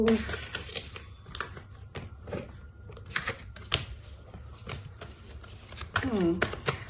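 Tarot cards shuffled and handled, then a pile slipping and scattering, giving quick papery riffles and flicks close by under steady talk.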